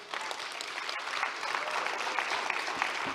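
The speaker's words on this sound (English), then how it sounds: "what are they clapping for?" Crowd clapping at a press conference held by attorney Ben Crump about autopsy results, fairly distant and soft, a dense even patter of many hands sustained throughout.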